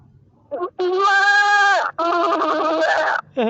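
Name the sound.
person imitating a goat bleating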